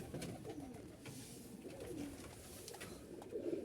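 Pigeons in a pigeon house give soft, repeated low coos close by, layered over a steady hum of rustling and background murmur.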